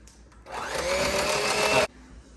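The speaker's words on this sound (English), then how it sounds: "we're going to put the last egg in and blend" A blender runs loud and steady for about one and a half seconds, mixing an egg into cheesecake filling, then cuts off abruptly.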